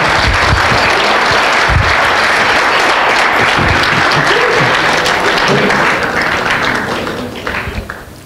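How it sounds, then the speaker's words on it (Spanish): During a Spanish-language church sermon, a congregation bursts into strong, sustained applause. The loud, dense clapping rolls on steadily, then thins out and fades over the last second or so. "Dale un aplauso fuerte al Señor."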